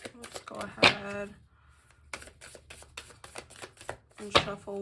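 A deck of cards is shuffled twice in quick riffling bursts, crisp and close, with softer handling and tapping of the cards in between and someone speaking briefly.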